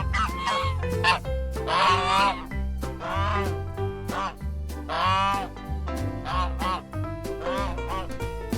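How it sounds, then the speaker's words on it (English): A goose honks repeatedly in nasal bursts over a steady rhythmic music bed, moderately loud, as part of a farm animal sounds lesson for kids. "Goose."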